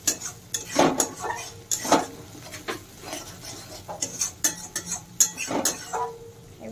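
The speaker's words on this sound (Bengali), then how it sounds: "মশলাটা আমি ভালো করে কষিয়ে নেব" A metal spoon scrapes and clinks against a pan as spice paste is stirred and fried over low heat, with irregular close knocks and scrapes over a faint sizzle and no talking.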